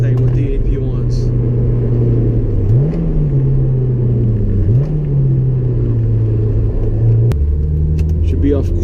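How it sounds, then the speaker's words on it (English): A Honda S2000 engine hums steadily, its pitch rising and shifting in a couple of smooth revs, with a low rumble throughout. "there should be a very pronounced change in tone of the engine and sound"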